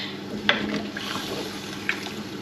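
Red wine glugging from a bottle into a pot of beef bourguignon, a steady low liquid pour with two brief splashy spikes, heard alone without talk.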